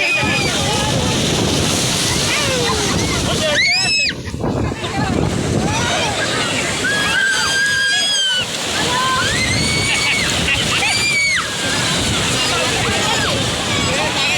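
Sea waves wash and slosh on Puri beach in a loud, continuous roar muffled by wind buffeting the microphone, with voices calling out over the surf.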